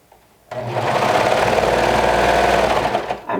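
Sewing machine running steadily as it stitches a fabric cord, a continuous close whirring hum that starts abruptly and holds for about three seconds before stopping.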